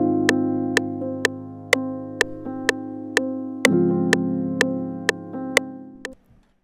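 Sustained synth chords change slowly in a loop while a sharp metronome click ticks steadily on every beat, then the sound stops abruptly.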